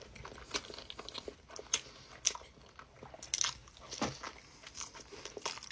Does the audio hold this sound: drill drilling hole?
no